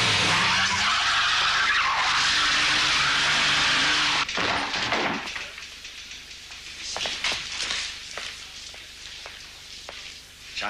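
Car tyres squealing in a burnout, a loud continuous harsh screech for about four seconds that cuts off, followed by quieter rumbling, clatter and scattered knocks, with no talking.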